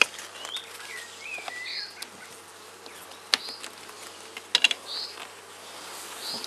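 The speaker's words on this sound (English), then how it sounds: "on here, plenty of bees. These are nurse bees." Honeybees buzz steadily during a hive inspection by Norfolk beekeepers, a close, continuous drone with individual bees flying past in short rising and falling whines, plus a few sharp clicks of frames being handled.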